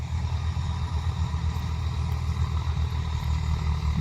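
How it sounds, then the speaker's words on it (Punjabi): A tractor fitted with a plough attachment arrives at a farm field being readied for sowing the winter crop; its engine gives a steady, loud, low rumble throughout, with no talk. "ਆ ਗਿਆ ਬਾਈ ਫਾਲਿਆਂ ਵਾਲਾ ਟਰੈਕਟਰ ਵੀ"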